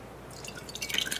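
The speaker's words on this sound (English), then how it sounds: "I'm actually going to pour it into a jar so that you can see it there too." Thick, lumpy kefir plops and drips into a jar in a short burst of soft, close liquid splashes.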